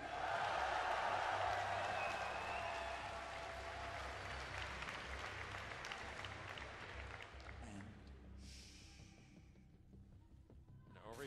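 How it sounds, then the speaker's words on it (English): A large arena crowd at the Blizzcon 2011 StarCraft 2 Grand Finals applauds and cheers loudly, the roar strongest at first and then slowly thinning, with scattered whoops. "give a cheer for the underdog in this series"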